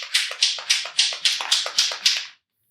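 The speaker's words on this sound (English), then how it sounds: "And then just start spraying." Spray paint hissing from an aerosol can onto wildlife cages in short, regular bursts, about eight of them in quick rhythm, close and loud, then stopping.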